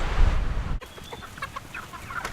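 Chickens cluck in soft, scattered bursts inside a chicken farm shed, following a brief burst of louder, rumbling noise at the start.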